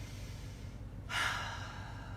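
A single audible breath, a soft rushing inhale or exhale during a yoga session, rises briefly midway over a low steady background hum.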